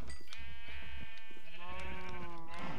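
A few Minecraft sheep bleat close by in quick succession, one long quavering cry drawn out in the middle with shorter calls around it.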